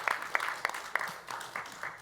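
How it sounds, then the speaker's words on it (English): A church congregation claps in a sparse, uneven patter of individual claps, fairly quiet and a little distant, with the sound thinning out over a couple of seconds. "So I just thought that was worth a round of applause as well."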